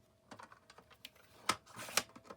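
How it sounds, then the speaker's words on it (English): A small, old Fiskars paper trimmer slices through paper in a few quick, close snips, two sharper cuts standing out near the end against a quiet room. "I'm gonna trim this up. I use my little trimmer because it's small."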